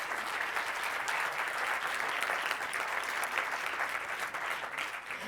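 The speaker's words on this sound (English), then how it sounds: "And please a warm round of applause for those 6 beautiful films." Audience applause for nominated films at a documentary editing award ceremony, a steady, dense wash of clapping from a large crowd, even and sustained without talk.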